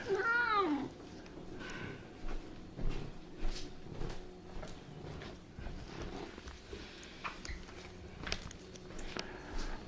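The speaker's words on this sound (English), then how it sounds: "This cat is very loud and it's annoying me." Cat meowing loudly, a long wavering meow right at the start followed by fainter meows and soft household knocks and rustles in a quiet room.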